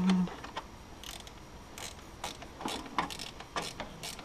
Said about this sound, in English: There's my ratcheting wrench. I'm going to take our ratcheting wrench here.